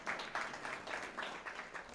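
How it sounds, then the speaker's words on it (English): Audience applause at a school board meeting, a faint, thin patter of clapping with an uneven rhythm from a small crowd heard at a distance in the room. "That deserves a round of applause."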